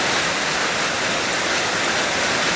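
Steady summer rain pours down as a dense, even hiss with no pauses or voices.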